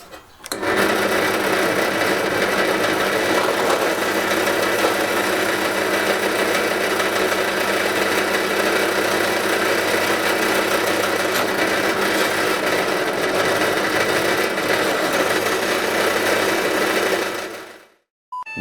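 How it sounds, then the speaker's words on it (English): A drill boring 3mm pilot holes in oiled metal for a vehicle rotisserie jig, one long steady whining motor drone held for about seventeen seconds before cutting off abruptly. "I'm going to start off with a 3mm bit. I'm going to pilot hole all of them"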